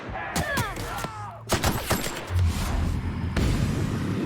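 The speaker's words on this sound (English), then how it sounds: "The assault rifle is certainly kicking harder." Assault rifle fire in The Outer Worlds, a first-person sci-fi shooter: short bursts of loud, close gunshots with sharp transients, firing in several clusters over continuous game background noise.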